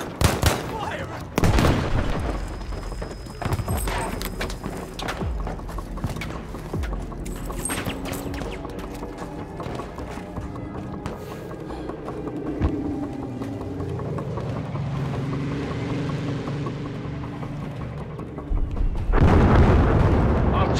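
In the video game Battlefield V, a grenade blast and bursts of gunfire ring out amid battlefield noise, with sharp impacts early and a loud rumbling burst at the end; voices talk over parts of it.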